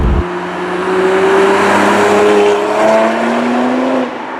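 A BMW 1 Series M engine pulls hard through the mid-range, its rising harmonic drone building steadily and loud from inside the cabin before easing off near the end.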